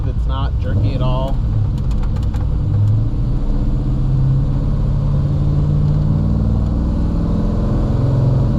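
A 1957 Chevrolet 210 Wagon pulls away smoothly, its engine a steady low rumble that holds loud and close throughout, with a few brief higher tones near the start.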